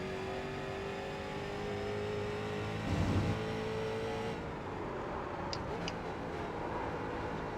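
A street stock race car in the iRacing game at Rudskogen drones with its engine, then a brief rev burst as it downshifts before the engine tone drops and settles, faint ticking in the background and no voices.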